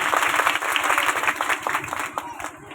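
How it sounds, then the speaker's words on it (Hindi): Hearty applause from a crowd at a devotional gathering, dense close clapping with a rhythmic, slightly pulsing quality that tapers off toward the end. "एक बार भैयाओं के लिए जोरदार तालियों से सम्मान व्यक्त करें"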